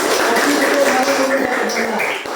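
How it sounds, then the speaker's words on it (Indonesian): Classroom applause for a group's presentation at a Hindu religious education lesson: a dense, steady wash of clapping hands with scattered sharper claps, running loud throughout alongside murmuring voices. "Tepuk salut."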